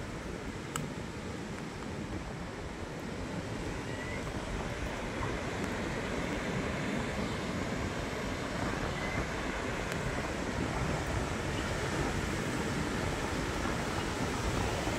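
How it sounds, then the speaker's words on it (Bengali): Sea waves wash onto the beach at Henry Island in a continuous broad roar, steady and fairly loud, mixed with some wind rumble and no speech. "এখানে কিন্তু সমুদ্রের ভালো ঢেউ আছে, ভালো ঢেউ আছে"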